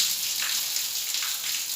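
Water draining out of an electric geyser water heater, a steady hissing trickle that stays constant and fairly faint with no talk.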